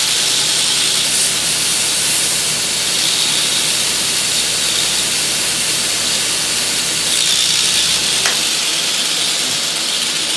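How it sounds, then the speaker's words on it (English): A running belt grinder with a grinding belt cleaner pressed to the belt gives a loud, continuous broadband hiss and rush, steady throughout, close up and without speech. "Get you a good grinding belt cleaner."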